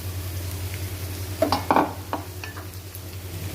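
A steady low hum with a brief burst of onion sizzling in oil and stirring clatter in the middle, then quieter background.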